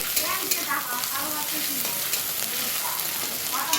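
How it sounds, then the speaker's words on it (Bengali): Green chilli and ginger sizzle and fry in hot oil in a pan, a steady close crackling broken by occasional stirring scrapes, with no talking. "কাঁচা লঙ্কা আর আদার যখন ভাজা গন্ধ বেরোবে"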